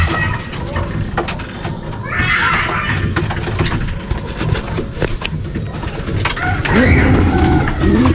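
Pigeons in a loft, with a busy mix of soft cooing, fluttering and scuffling throughout at a steady, fairly loud level, and some background voices.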